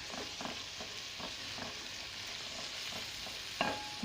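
Onion and bell pepper frying in a pan for a meatball tagine, a soft, steady sizzle with a few muffled stirring scrapes and a brief clatter near the end, quiet and close, no voices.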